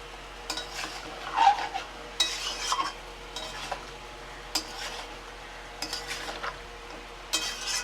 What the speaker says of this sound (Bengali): এটাকে এখন ভালো করে নেড়ে চেড়ে আমি এবার কষাতে থাকবো